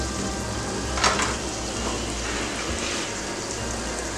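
Garlic frying in oil in a pan for a green chilli pickle, a steady, close sizzle and crackle throughout with a few brief louder spits.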